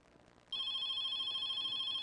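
An electronic telephone ring cuts in after a brief quiet moment and holds as a loud, steady, bright tone, with no talking.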